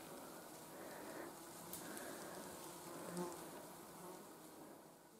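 Steady mosquito buzzing hums through a sunny forest, continuous and moderately loud, with no one speaking.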